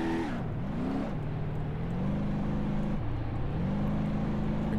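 Car towing a travel trailer in BeamNG.drive, engine droning steadily and shifting pitch as it accelerates through gears toward a ramp jump, loud and continuous with no voices.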